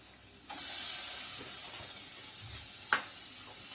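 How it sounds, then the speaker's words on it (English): Tomatoes hit a hot pan of softened vegetables with a soft, steady sizzle and hiss, quiet and close, with a faint clink of a utensil near the end. "Now I am adding tomatoes to it"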